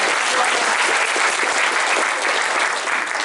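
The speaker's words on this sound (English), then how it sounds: "Round of applause for your name." Loud, steady applause from a crowd, dense clapping filling the whole stretch without a pause.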